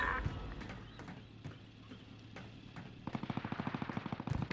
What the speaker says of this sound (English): Guy in cafeteria shooting at me